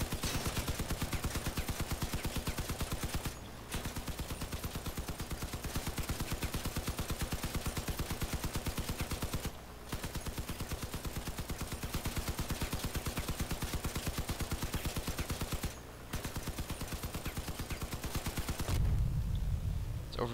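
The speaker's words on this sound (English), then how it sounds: "we have to solo just pure firing without letting the guns cool down in bursts" Several machine guns on a vehicle in the video game Crossout fire continuously in long rapid bursts, with only a few brief pauses over the steady loud clatter.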